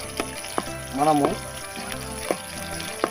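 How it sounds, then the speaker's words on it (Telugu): Onions sizzle in a pan for a river fish curry, a soft steady frying hiss beneath a voice speaking Telugu, with a few faint clinks from stirring. "ఎర్రగడ్డలు ఒక నిమిషం వేగిన తర్వాత"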